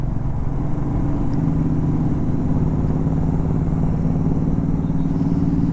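A Royal Enfield GT motorcycle rides along a road, its engine giving a steady, continuous mid-pitched drone with road and wind rumble throughout and no clear changes in speed.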